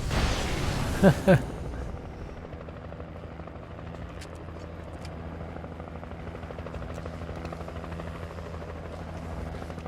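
A helicopter in the video game Alan Wake gives off a steady, continuous rotor drone throughout, with two brief loud thumps near the start.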